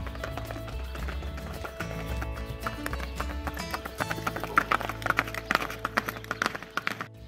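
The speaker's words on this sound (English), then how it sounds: "we came across Or and his brother taking their horses out for a ride" Horses being taken out for a ride at a moshav in the Golan Heights clip-clop steadily on the ground, a rhythmic run of close hoof strikes with outdoor rumble and no talking.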